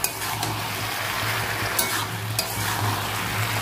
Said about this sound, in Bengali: ভালো করে নেড়ে চেড়ে একসাথে ভেজে নেবো